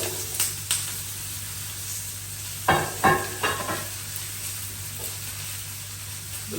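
Vegetables tipped into hot coconut oil in a roasting pan give a steady sizzling hiss, with a few louder bursts of stirring and scraping midway.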